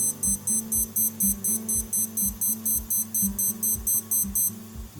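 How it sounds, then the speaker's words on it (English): Timex Expedition digital watch timer going off, a rapid series of high, sharp beeps repeating in an even rhythm for several seconds, close and clear with a faint low hum underneath. "so we will get a full 10-second beeping"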